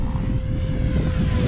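A 3D-printed 70mm Mirage RC jet flies in gusty wind, its ducted fan giving a steady, loud, high-pitched whine that holds without a break.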